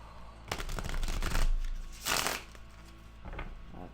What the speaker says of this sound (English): Dang it, I can't shuffle to save my life.